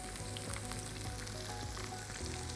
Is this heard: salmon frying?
yes